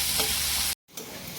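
Chopped onion frying with cumin seeds in a pan gives a loud, steady hiss, cuts out briefly, then resumes at a slightly softer sizzle.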